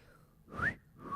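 A person whistles a couple of short, wavering notes nearby, thin and somewhat breathy, with quiet room noise between them.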